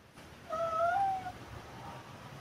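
One short, soft cat meow sounds close by in an otherwise quiet room.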